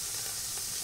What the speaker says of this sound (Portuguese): nós vamos continuar fritando, selando os nossos ingredientes